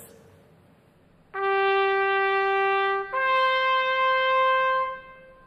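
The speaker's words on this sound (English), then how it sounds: "If we take that same G and play the C right above that" A G and the C above it ring out together a fourth apart, loud and clear, with a brief dip midway as the notes are restruck, then stop.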